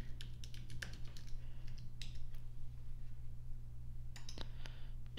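Quiet clicking keystrokes on a computer keyboard while a password is entered, in scattered bursts over a constant low hum.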